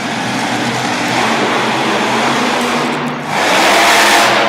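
A Dodge Ram monster truck from Pennsylvania roars in a wheelie competition at an arena event, its engine a loud sustained growl that dips briefly, then surges back up in a heavy rev.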